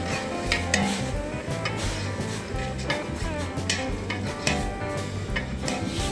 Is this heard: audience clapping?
no